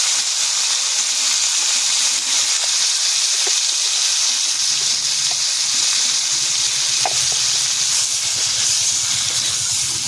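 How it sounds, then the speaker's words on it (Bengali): Cauliflower sizzles in hot oil in a pan, a loud continuous hiss of frying with occasional faint stirring clicks, close and steady for about ten seconds with no speech. "এবার ফুলকপিটা ভেজে নেব।"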